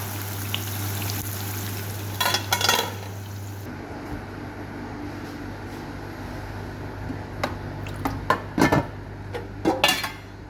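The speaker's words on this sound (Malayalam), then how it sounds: "നമ്മൾ നേരത്തെ പറഞ്ഞ സ്രാവ് പൊരിക്കുകയാണ് കേട്ടോ" Shark pieces fry in a pan with a continuous soft sizzle, and scattered metallic clinks and scrapes of utensils grow busier toward the end.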